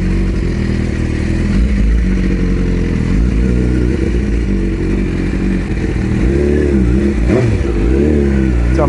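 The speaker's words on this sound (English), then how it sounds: "there's too much traffic coming down" Motorcycle engine running steadily on a road with passing traffic, a continuous loud low rumble with revving swells throughout.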